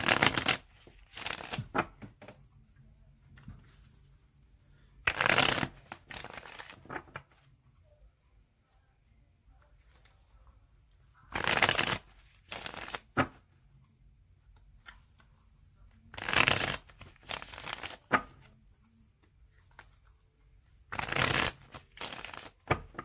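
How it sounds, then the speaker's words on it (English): A deck of tarot cards is shuffled in several quick bursts of riffling and slapping, each a second or two long, separated by quiet pauses. Faint low background noise runs between them. "I'm going to shuffle it 3 more times."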